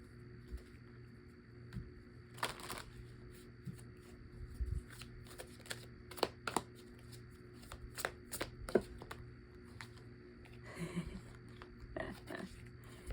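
Enchanted Map Oracle cards being shuffled by hand: quiet, close riffling and shuffling bursts scattered irregularly, with soft handling noise in a hushed room, the sounds coming in separate clusters.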